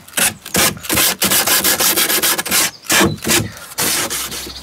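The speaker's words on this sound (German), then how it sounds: "Und schleife dann die andere Seite so rum." Rhythmic back-and-forth strokes of sandpaper on a wooden Easter bunny craft figure, loud and close, with brief pauses between bursts and no talking.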